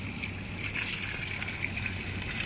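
Water flowing from a street tap: a steady, hissing gush of running water, constant and fairly close, with no pauses.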